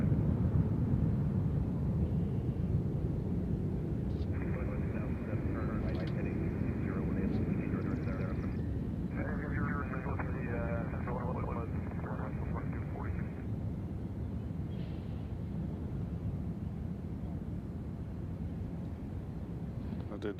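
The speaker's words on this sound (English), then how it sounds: "This flight's going to Minneapolis, 737-900." A Boeing 737-900 airliner at Nashville International Airport gives a continuous low, rumbling roar that holds fairly steady, with faint thin tones passing over it.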